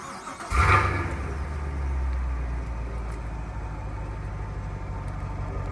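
A 2019 Chevrolet Camaro SS V8 engine cranks and catches, then settles into a deep, steady rumbling idle, close by and loud.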